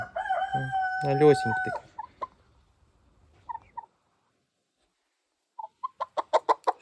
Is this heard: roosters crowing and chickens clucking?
yes